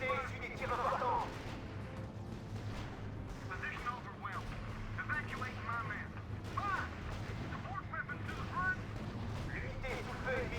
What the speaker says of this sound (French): L'unité est sous le feu ennemi.